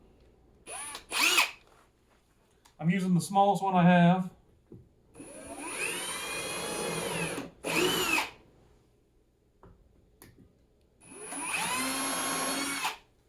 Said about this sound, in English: as soon as we apply pressure and drill